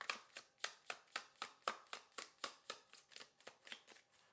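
Tarot-style reading cards are shuffled in a steady run of crisp riffling snaps, about fifteen quick even beats, close and fairly quiet with no talking.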